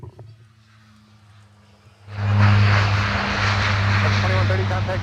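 An airliner takes off from runway 17 at Minneapolis–St. Paul airport, a low steady hum swelling abruptly into a loud broad engine roar that holds steady, with tower radio talk at the start.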